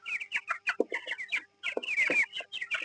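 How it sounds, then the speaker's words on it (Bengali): Chickens being released one at a time after being measured and colour-marked, clucking in short, busy bursts that crowd together with a brief pause partway, close by and fairly loud with no talking. "একটা একটা করে মুরগি আমরা এখন ছেড়ে দেবো"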